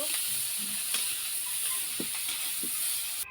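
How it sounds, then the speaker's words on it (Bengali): Prawns frying in hot oil give a steady, close sizzling hiss with a few soft clicks and spatters, and no voices. "তো আমি মাছগুলো ভালোভাবে ভেজে নিব।"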